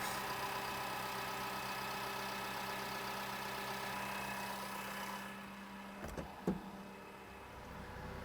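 JLG telehandler diesel engine idling at a steady low rumble, constant and moderately near, then cutting off near the end, followed by a couple of brief clunks.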